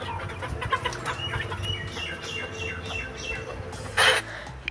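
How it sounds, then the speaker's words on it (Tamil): Chickens in a rural Tamil village yard cluck repeatedly in short, uneven bursts over a continuous low background, with one louder, sharper call near the end. "காலையில் எழுந்த உடனே வேலையாக கோழி நீக்கி விட்டாச்சுங்க."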